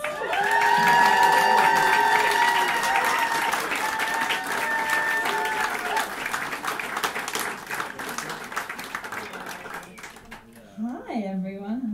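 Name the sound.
audience applause and cheering for comedian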